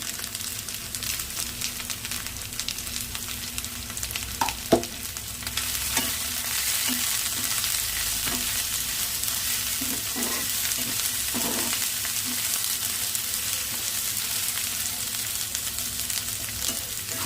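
Chopped onions and ginger frying with turmeric in a pan over low flame, a continuous close sizzle with occasional scrapes and taps of a stirring spoon and no voices throughout.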